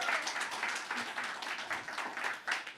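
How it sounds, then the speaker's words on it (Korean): A church congregation at a Korean Sunday worship service applauds to celebrate students who finished a middle school discipleship training class, producing a steady, fairly dense clapping that fills the short moment at moderate volume. "박수!"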